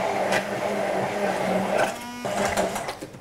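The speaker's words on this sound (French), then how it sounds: "Alors, on va mixer." A blender purées a cold Jerusalem artichoke condiment, a steady loud whirring motor drone that runs throughout, shifting pitch slightly midway as the mixture thickens.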